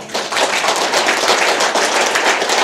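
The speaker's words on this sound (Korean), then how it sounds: "박수 한번 쳐주세요" A seated audience at a lecture hall gathering claps in a sustained burst of applause, dense and close, holding at an even level throughout with no talk over it.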